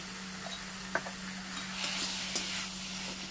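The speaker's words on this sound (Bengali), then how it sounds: "এবার দিয়েছি ভাজা চিংড়ি মাছটা জুসটা একসাথে। এটা কিন্তু অবশ্যই দেবে, এটার মধ্যে কিন্তু মেন স্বাদটা লুকিয়ে থাকে। এবার এটাকে দিয়ে একটু কষিয়ে নেবো" Fried prawns and their juices sizzle with spices in a pan, a steady close frying hiss broken by a few light ticks and scrapes of stirring.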